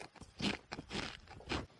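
Someone crunches on spaghetti-flavoured potato chips close to the mic, with several loud, brittle bites and chews in quick succession.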